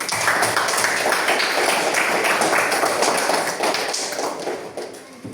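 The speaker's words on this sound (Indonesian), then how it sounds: "Tepuk tangan dulu." Schoolchildren clapping their hands together in a classroom, a dense, close burst of many small hands that carries on steadily and then thins out toward the end.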